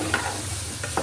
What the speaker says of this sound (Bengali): ভাজা ভাজা করে নিই ডাইলটা।